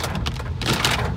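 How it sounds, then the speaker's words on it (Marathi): Rain pours onto a road during a downpour in traffic, a steady broadband hiss with pattering bursts, fairly loud and constant without any talk. "आता तुम्ही बघा पाऊस किती रस्त्यात."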